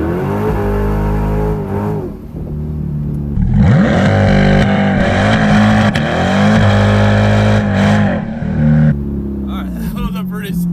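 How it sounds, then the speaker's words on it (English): A C8 Corvette doing a burnout at a drag strip: a loud engine held at high revs with rising and falling pitch, tire squeal and a roaring rev at the end. "We're gonna do a little bit of a burnout here to try to help it out."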